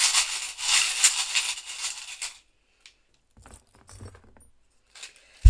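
Metal bracelet charms jingle and clink brightly up close as they are scooped up, followed by a few sparse, quieter rattles and taps, with no voices.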